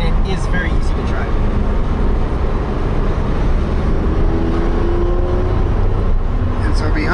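A Porsche 911 GT3 RS cruises gently on back roads, its engine a steady low drone mixed with road and wind noise inside the cabin, loud and continuous with no hard acceleration.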